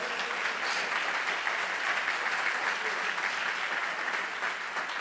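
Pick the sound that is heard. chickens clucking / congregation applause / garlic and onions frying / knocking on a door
congregation applause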